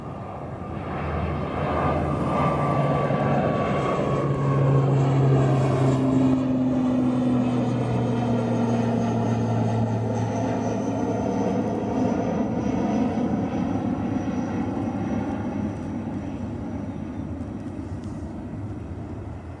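ATR turboprop aircraft at Christchurch International Airport, a loud steady engine drone with rising and falling propeller tones that passes close by and slowly fades.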